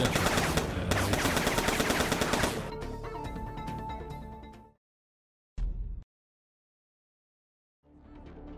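Automated turrets in the game Foreclosed fire a dense, rapid burst that thins into scattered shots before cutting out, then a brief second burst and a faint return of gunfire after silence.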